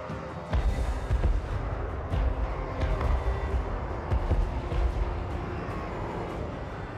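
Repeated booming cannon blasts ring out in a rough rhythm, several heavy shots over a dense, rumbling game soundscape.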